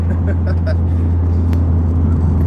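A 406bhp Vauxhall Corsa VXR accelerating hard, heard from inside as a loud, constant low engine drone under heavy road and wind noise, with a voice briefly audible.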